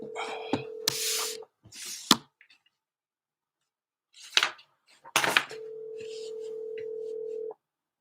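Telephone keypad tones on an outgoing cold call: a few short dialing beeps and bursts, then a steady, clear ringing tone that holds for about two seconds before cutting off.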